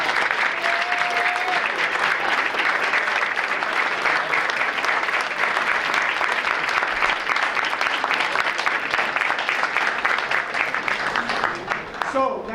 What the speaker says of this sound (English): let us give you a round of applause for the support and work that you've done with your